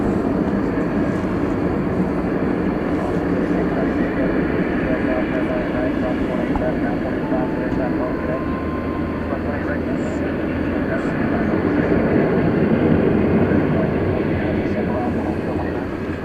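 A British Airways jet airliner departs Dallas Fort Worth for London, a loud, continuous engine roar that swells slightly near the end. Talk runs beneath it.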